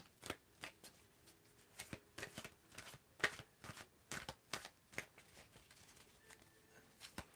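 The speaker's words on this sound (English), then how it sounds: "Just tell me when to stop shuffling." Quiet, close-up tarot card shuffling: repeated soft riffles and slaps in an uneven rhythm, with no talking.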